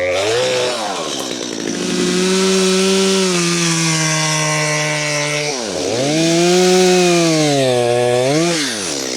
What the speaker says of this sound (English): I got to go down and grab that chainsaw and I got to do it.